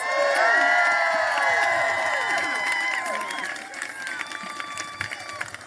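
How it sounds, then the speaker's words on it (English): A large crowd at a rally on the Supreme Court steps cheers and whoops loudly at first, then the cheering fades into scattered clapping and excited shouts. "Give her a round of applause."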